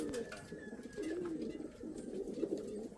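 Indian Fantail pigeons cooing, soft low throaty coos that repeat in short rolling phrases over faint background noise.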